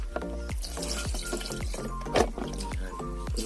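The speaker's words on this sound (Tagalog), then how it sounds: "So, you need to wash the scallops guys." Fresh scallops being rinsed under running water in a kitchen, with a steady tap flow and splashing, dripping and knocking of shells in a sink or bowl throughout, fairly close and continuous.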